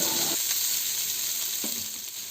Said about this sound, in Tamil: நாங்கள் வந்து 2 வெங்காயம் கட் பண்ணி போட்டிருக்கோம்.